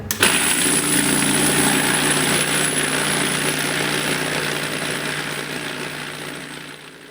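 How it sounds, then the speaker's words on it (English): A case tumbler loaded with lubed .30-06 rifle cartridge cases runs with a steady, loud mechanical hum and rattling churn. It starts abruptly and fades slightly toward the end, with no voices. "put them in the tumbler and let it go for a minute"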